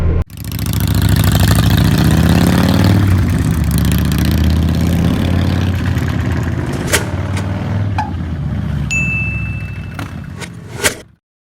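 A 2021 Honda Goldwing DCT motorcycle engine idles with a close, steady mid-pitched rumble, while brief chime-like dings sound twice near the end before the engine noise stops.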